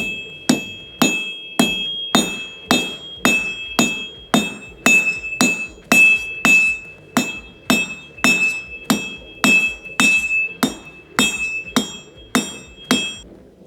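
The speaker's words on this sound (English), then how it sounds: "So first test, round bar on the VEVOR anvil." Rapid, steady hammer blows strike round bar stock on a 30kg VEVOR steel anvil, each impact ringing bright and metallic with a sustained high tone, roughly twenty loud, close strikes in even rhythm with no talking.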